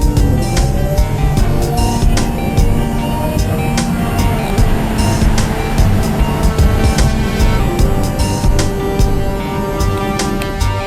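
An electric Audi R8 e-tron driving at serious speed, a steady whirring drive and road roar with rushing wind noise that stays loud and continuous throughout, with no engine note.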